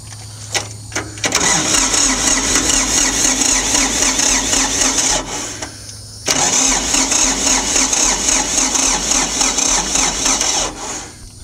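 A Ford 1710 tractor engine cranks sluggishly, then catches and runs, stops briefly, and starts again into a steady loud idle that continues for several seconds.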